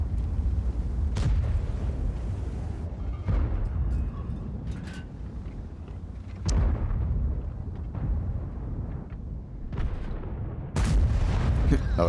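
Tank cannon shots in the World of Tanks video game, several loud booming blasts spaced a few seconds apart over a constant rumbling engine drone, with no talk.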